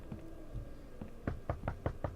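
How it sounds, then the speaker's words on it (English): Door knocking in the video game The Wolf Among Us, a run of about seven sharp raps that start sparse and speed into a quick, evenly spaced burst over a low ambient game bed. "Oh, stop knocking."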